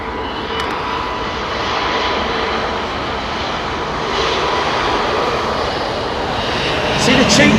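Airbus A320-family narrow-body airliner passing at London Heathrow, its engines giving a loud, sustained roar that swells slightly toward the end, with a voice talking over it.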